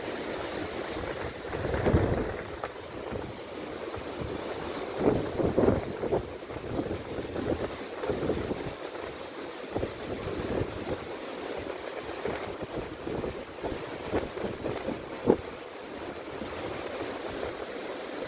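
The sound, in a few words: stormy hurricane-force wind in Antalya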